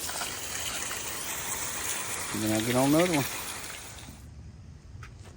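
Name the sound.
spraying down engine cylinder heads with water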